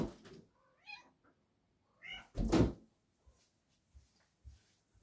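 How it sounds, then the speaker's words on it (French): A cat meows several times at a door, waiting to be let in, with short separate calls, a few soft thuds and a louder knock or rattle in a quiet room. "Je vais faire rentrer mon chat d'ailleurs, je reviens. Elle est à la porte."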